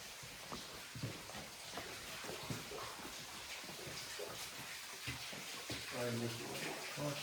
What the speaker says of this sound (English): This is going to be your first waterfall.